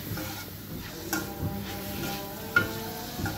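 Ingredients for fried rice fry gently in a pan, a soft, fairly quiet sizzle with a few light taps and scrapes of stirring, close by, with no speech.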